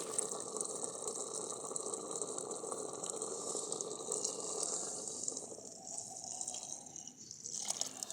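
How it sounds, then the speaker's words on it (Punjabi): Milk pours steadily into a pot for jaggery kheer with a soft, continuous gushing splash that thins out near the end. "ਤੇ ਹੁਣ ਆਪਾਂ ਦੁੱਧ ਪਾਵਾਂਗੇ"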